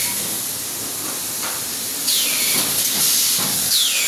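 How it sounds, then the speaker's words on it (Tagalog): Mineral water bottle-making machines running nonstop, a loud continuous hiss and rush of pressurized air with sweeping swells, steady throughout. "Ang ingay dito kasi yung mga makina ng paggawa ng bote ng mineral water ay walang tigil yan mula pagdating namin"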